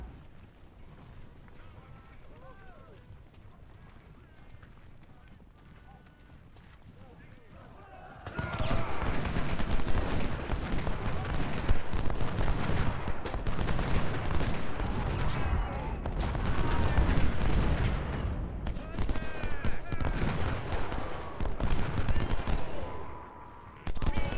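Dense, continuous battle noise of massed musket volleys and booming artillery erupts in Ultimate General: Civil War, loud and sustained after a quieter opening stretch with faint voices underneath.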